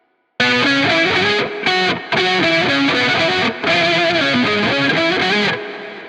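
A dark, roomy electric guitar tone with an octave layer beneath, playing a loud chord progression with brief pauses, then a decaying tail.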